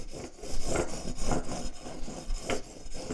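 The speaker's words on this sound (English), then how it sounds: "little pass with my long sanding beam, which this one is actually 400 grit" Long 400 grit sanding beam rubbing across the fret tops of a Mexican Stratocaster, a close, even back-and-forth scraping with rhythmic strokes and no talking.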